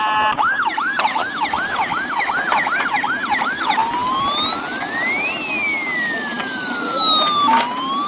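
A toy ambulance siren wails in rapid up-and-down whoops, then switches to slower electronic sweeping tones, loud and close with no talking.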